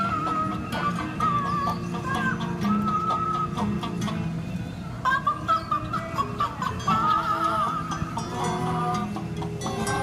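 Chickens at Underwood Family Farms cluck and squawk in a busy overlapping chorus, some calls rising into drawn-out warbles, heard close and fairly loud during an autumn farm visit.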